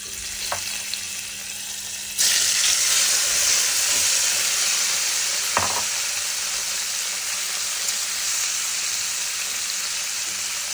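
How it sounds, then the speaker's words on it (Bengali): Paneer frying in a pan of oil seasoned with turmeric and salt, a steady loud sizzle that jumps up sharply as the pieces go in and then hisses on continuously, with occasional stirring clatter. "তেলের মধ্যে হলুদ লবণটা দিয়ে তারপরে পনিরটা ভাজবো"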